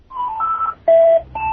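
Phone tones from a handset, a short run of clear electronic beeps at changing pitches, loud and close with no voices.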